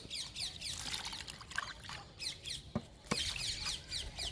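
Homemade liquid fertilizer is poured onto young fruit plants, making a close, steady pattering trickle with a few sharper splashes near the end and no talking.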